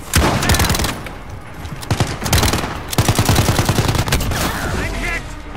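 Automatic gunfire from a military shooter video game rattles in rapid, loud bursts almost nonstop, with dense overlapping shots and brief gaps between volleys.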